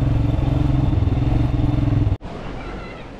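A rental motorcycle engine running poorly, a loud rough chugging with an uneven pulse that suddenly cuts out at about two seconds before a rumbling noise resumes.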